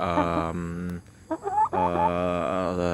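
A Gorilla breed hen clucks and calls in drawn-out, nasal bursts close by, with a short pause midway filled by softer clucks.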